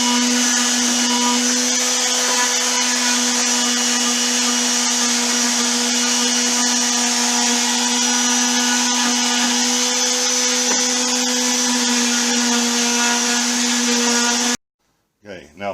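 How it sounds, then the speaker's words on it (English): A small electric sander runs continuously at close range, a loud, steady high-pitched whine with a buzzing edge as it smooths board edges for a minivan slide-out bed, cutting off abruptly near the end. "a little sander"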